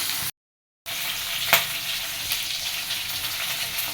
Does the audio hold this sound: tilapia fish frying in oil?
yes